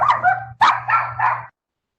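A dog barks several times close by, loud yipping barks in a quick burst with a steady electrical hum underneath, then silence.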